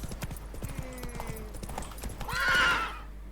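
Horse hooves clip-clop at a steady gallop in The Witcher 3, joined near the end by a loud whinny, with game music and ambience underneath and no talk.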